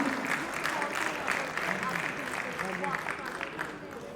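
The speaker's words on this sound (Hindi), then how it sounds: "आपकी तालियां बजती रहनी चाहिए" Sustained applause from a conference keynote audience, steady and dense throughout, with voices mixed in beneath the clapping.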